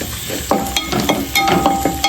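Chicken pieces frying in a pan to brown them, with a steady close sizzle broken by intermittent scraping and stirring bursts, no voices.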